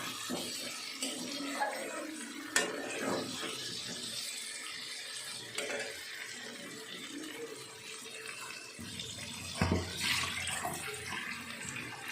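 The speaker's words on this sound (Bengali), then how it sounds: "3 কাপ মতো গরম জল, উষ্ণ গরম জল দিয়ে দেব" Roughly three cups of warm water pour into a pan of masala and potatoes for dhokha dalna, a continuous close rushing splash with bursts and bubbling over a soft sizzle, no voices.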